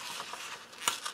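Paper torn by hand for an art journal page: a short, quiet rip with light crinkling, ending in a sharper snap of tearing.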